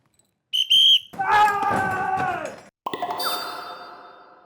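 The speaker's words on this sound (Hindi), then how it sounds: "स्टार्टिंग की सीटी हम बजाऊंगा" A competition judge blows a starting whistle: a short shrill toot, then two longer wavering whistle blasts with a brief gap between them, loud and close.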